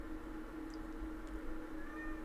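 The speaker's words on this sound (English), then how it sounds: "Man, that cat is going to drive me insane." A cat meows faintly during live commentary on a stage of the 2025 Vuelta a España, with steady background hum and brief high cries.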